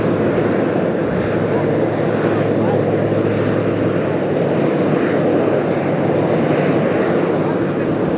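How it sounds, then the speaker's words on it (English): A jet airliner lands in a gusty crosswind at Las Vegas, producing a steady, loud, broadband engine roar that holds constant throughout, mixed with wind noise. "I wonder if this is a former Virgin America plane."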